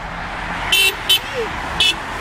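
A car horn gives three short honks, the second briefest, over a low steady road and traffic rumble.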